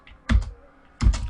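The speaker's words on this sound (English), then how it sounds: "I'm going to write down continue" Two short clusters of keystrokes on a computer keyboard tap out a word, each a quick close burst separated by a brief pause.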